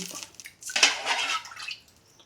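Water is poured into a pan of ghee-roasted semolina for rava kesari, a brief close splash and hiss that rises, holds for about a second, then fades.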